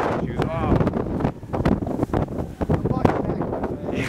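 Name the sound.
wind blowing during a blizzard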